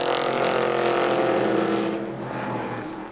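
Le Mans prototype race cars roar out of the pit lane onto the track, a loud, dense engine blare that holds steady and then fades slightly as the cars pull away.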